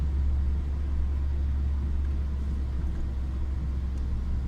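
Steady low road rumble of a Fiat Egea cruising at speed on a motorway, a constant engine and tyre drone with no voices.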